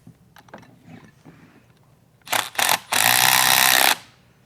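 A 1/2 inch socket tightens carriage bolts on a large trailing arm cultivator, with a couple of short mechanical bursts followed by a sustained loud whirring drive lasting about a second.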